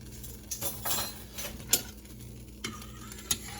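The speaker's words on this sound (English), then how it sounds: "And now just mix all of your ingredients together" Pollo guisado ingredients with sofrito and salt being stirred together, with scattered spoon scrapes and light clinks against the pot, a few sharper knocks, a faint sizzle underneath, close and fairly quiet.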